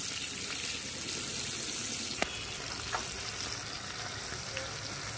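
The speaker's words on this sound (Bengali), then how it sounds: "তেলের মধ্যে ভাজা ভাজা করে নেব।" Peeled tomato frying in oil in a pan, with a steady, close hiss and crackle of sizzling throughout and a few sharp pops and clicks standing out.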